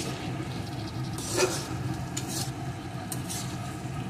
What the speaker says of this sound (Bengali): এখন আমি এইভাবে একটু নাড়িয়ে নাড়িয়ে মিডিয়াম আঁচে এই জলটাকে শুকিয়ে নেব।